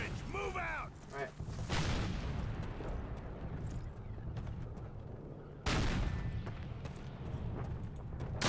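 A cannon fires in Call of Duty during the Brecourt Manor mission, two heavy booms several seconds apart, each a sharp blast trailing into long rumbling battle noise, with a voice shouting briefly before the first.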